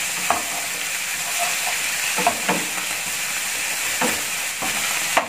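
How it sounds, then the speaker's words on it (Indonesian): Beef and mushrooms stirred in a frying pan, a loud continuous sizzle and hiss with scattered spatula scrapes and taps, close by and without speech. "lalu saya aduk lagi bersamaan dengan dagingnya"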